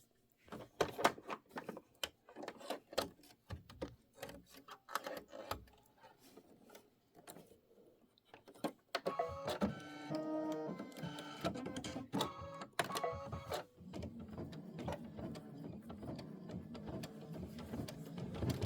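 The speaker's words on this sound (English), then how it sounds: "And this is going to be 3 minutes of stitching." Computerized embroidery machine stitching a Kimberbell Wallflower quilt block with lighter avocado-green thread, a dense mechanical clatter of rapid needle ticks, quieter at first and then steady and louder throughout.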